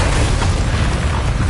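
Confringo fire spell exploding in the video game Hogwarts Legacy, a steady booming burst with a dense low rumble that holds at even loudness for the whole moment, with no talk over it.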